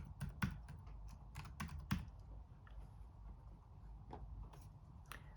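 Faint typing on a computer keyboard, a few scattered keystrokes and short bursts with gaps between them, quiet against a low background hum, no talking.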